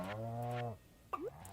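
Single cow moo in Stardew Valley, a clear, harmonic low call lasting under a second, followed by a brief rising squeaky tone.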